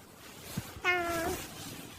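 In a Roblox game, a cat gives one short, clear meow after a couple of soft taps, heard alone against quiet background hiss.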